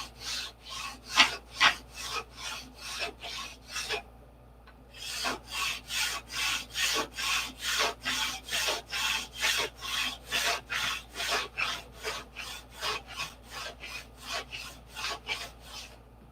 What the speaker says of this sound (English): You just sand down until you hear it. The sandpaper touch the rods.